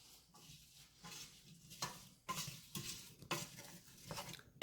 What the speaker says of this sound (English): Stirring frequently.